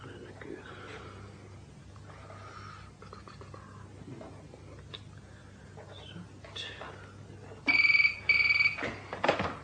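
In a radio play sound effect, a telephone rings unanswered: two loud bursts of ringing come near the end after quiet room noise and faint handling sounds.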